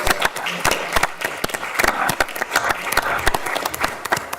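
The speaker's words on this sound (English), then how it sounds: "let's give him a round of applause as well" Audience applause at a school board of education meeting, honoring an absent coach: dense, steady clapping from a crowd in an indoor hall, sustained throughout at moderate loudness with no voices over it.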